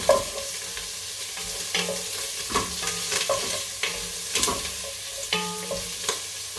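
Pepperoni fries and gets stirred in a pan over a very high flame, a steady close sizzle broken by repeated scraping, clacking stirs, with no voices.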